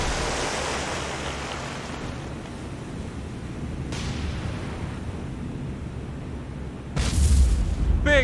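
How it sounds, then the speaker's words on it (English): A secondary explosion rips through the rear of a warship in the naval combat game War on the Sea, a sudden loud boom at the end bursting over steady, rumbling ocean and battle ambience. "Big hit. Secondary explosion in the rear"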